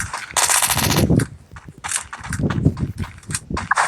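Rapid bursts of automatic gunfire ring out in the Free Fire battle-royale video game, loud and close, in several clustered volleys separated by brief gaps.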